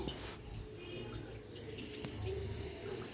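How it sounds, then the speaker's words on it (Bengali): Water running from a tap and splashing softly as it is patted by hand onto paneer patties, a steady faint trickle with a few small drips, close by and with no speech. "জল হাত দিয়ে দিচ্ছি"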